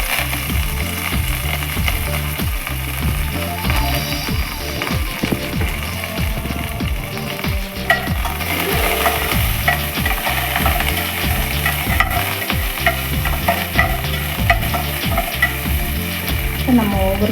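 Mustard seeds spluttering and popping in hot oil for South Indian sambar, a dense, loud sizzle with rapid crackling bursts, stirring sounds and scraping throughout.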